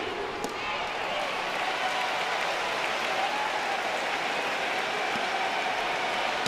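A college baseball crowd, LSU fans, applauds and roars in a large stadium during a tense bases-loaded moment trailing Oklahoma late in the game, a dense, sustained wash of cheering and clapping.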